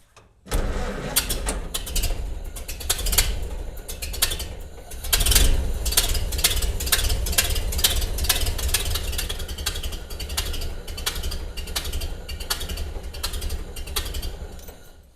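An old Ford Model A car engine cranks and then settles into a steady running chug with a rough, rattling idle that carries on without a break.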